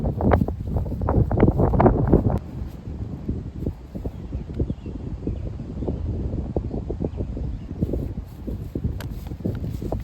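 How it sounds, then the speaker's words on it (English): Strong wind gusts roar across a microphone outdoors on a disc golf course. The buffeting is heaviest at the start, then eases into a steadier rumble broken by scattered thumps and rustles. "Why is wind so strong sometimes?"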